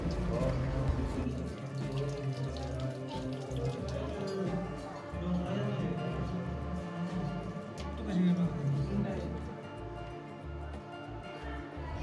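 Holy spring water flows continuously at an ancient Shiva temple, a steady trickling and splashing stream heard up close throughout, with a voice talking over it and a rhythmic low thumping underneath.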